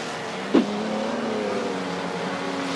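Race cars charge down the start-finish straight in a steady, loud engine drone, with one sharp thump early on and the roar holding evenly afterward.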